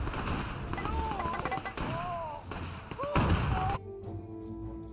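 Mortar rounds from a field mortar team in the Men of War 2 war game strike their target as a few heavy thuds and gunfire-like bursts amid battle sounds, followed by a quieter tail.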